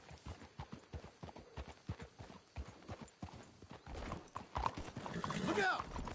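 Horses clip-clop in Red Dead Redemption 2 with a steady run of close hoof strikes, then a busier stretch near the end where a horse whinnies and the scene grows louder.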